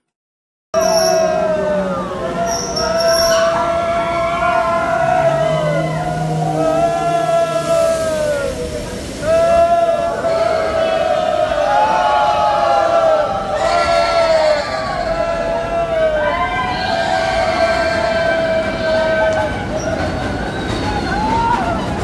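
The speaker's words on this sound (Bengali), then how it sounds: "তো একটা গুহার ভিতর দিয়ে আমাদের ট্রেনটা নিয়ে যাবে। তো সাথে থাকুন, এখনই আমরা গুহায় প্রবেশ করছি।" A ghost-house ride train at Subarnagram rolling into a cave, its wheels squealing and screeching in long rising and falling whines over a continuous rumble, loud and close.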